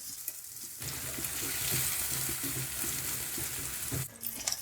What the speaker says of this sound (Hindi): प्याज हम हल्के से ब्राउन करेंगे, बहुत ज्यादा हम प्याज को ब्राउन नहीं करेंगे।